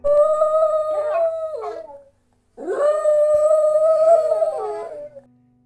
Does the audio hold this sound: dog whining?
yes